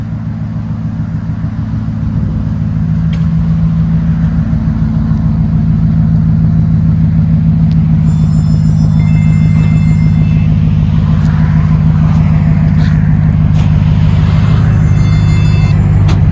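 A 2005 Dodge Ram pickup's 5.7L HEMI V8 idles loud and close through a Flowmaster Flow FX dual exhaust, a deep steady burbling rumble that swells slightly after the first couple of seconds and holds.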